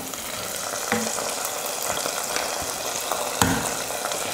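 Cashews and raisins fried in ghee are poured into payasam, a steady hiss of hot fat sizzling into the liquid with a couple of sharper crackles, close and continuous with no talking.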